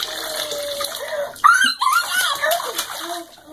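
Water splashes and sloshes in a bath, with a sudden loud splash midway followed by smaller ripples and drips, close by, while a child vocalizes and an adult speaks.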